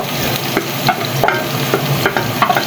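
Garlic and onion sauté in a hot pan with a loud, dense, close frying hiss and periodic soft scrapes of a spatula, and no talking.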